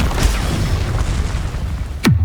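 The Bombarda spell goes off in the Hogwarts Legacy game, heard as a loud, rumbling boom under a dense game soundscape, with a sharp falling whoosh near the end.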